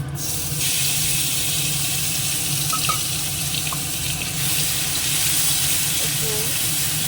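Dried red chillies, cumin, and grated onion and garlic frying in hot oil, giving a steady, close, loud hiss that runs unbroken throughout, with a few faint clinks from a utensil.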